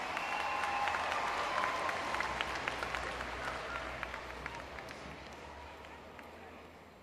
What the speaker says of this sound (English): Please, a round of applause for Brother Suhaib.